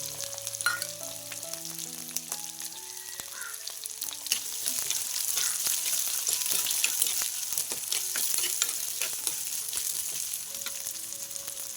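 Onion and garlic with spices frying in oil over spinach in a home kitchen, a long, steady close sizzle crackling under a faint background tone, with occasional stirring taps.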